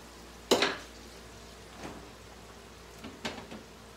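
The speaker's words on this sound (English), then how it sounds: "Let me stir my okra. My okra is frying." Okra frying in a pan and being stirred: a sharp metallic clack of the utensil, then softer scrapes and clinks over a faint steady sizzle, close and with no voice.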